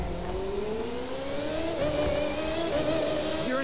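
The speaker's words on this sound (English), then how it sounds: "I just love the sound of these cars. Sounds like angry bees" Race cars in The Crew 2 rev and accelerate together, a buzzing engine whine climbing steadily in pitch, loud and continuous like a swarm of angry bees, with no talk.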